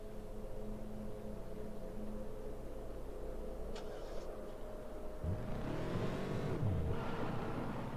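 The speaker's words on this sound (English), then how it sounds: "I guess I'll fucking hotwire the car." In the Alone in the Dark video game, a hotwired car drones with a steady low engine hum, then a brief click before the engine revs up, rising and falling loudly over the last few seconds.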